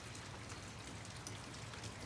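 Raindrops patter steadily through a spring sun shower, a dense, even hiss of drops striking surfaces that carries on unbroken with no voices.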